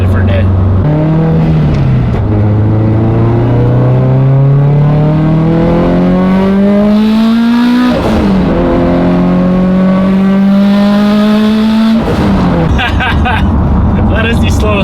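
A 1000-horsepower Subaru running 13 pounds of boost accelerates hard, its loud engine note climbing steadily through the revs, dropping at each gear change before rising again, heard from inside the car.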